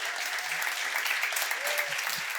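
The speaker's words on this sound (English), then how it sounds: "Let's give him a warm round of applause" An audience claps warmly for a Hall of Fame college basketball coach being welcomed as a guest, a short steady burst of applause at moderate volume.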